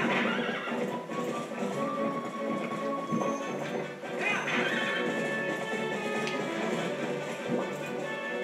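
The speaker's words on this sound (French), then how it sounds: "Ça va être mon cheval" In the Zelda Twilight Princess video game, a horse whinnies repeatedly over the clip-clop of its hooves, the game sounds playing at moderate volume with no voices.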